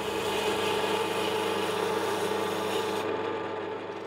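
A round block of wood is turned on a lathe, giving a continuous close rasping and scraping with a faint hum beneath it. The high scrape cuts off near the end.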